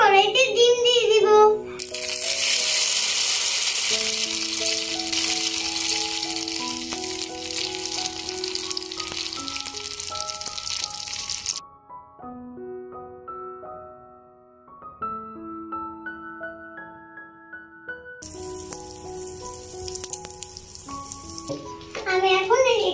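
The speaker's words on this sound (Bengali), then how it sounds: "এখন আমি কড়াইতে ডিম দিয়ে দিব।" Egg frying in oil in a kadai on a stove, a steady loud sizzle crackling across most of the stretch, dropping out briefly midway and returning, with background music playing throughout.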